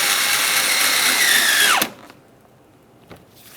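A power driver whirs steadily as it snugs a Phillips head screw while a 2007-2013 Acura MDX windshield washer reservoir is replaced. The whine rises in pitch, then stops abruptly, leaving a quiet tail with a faint click.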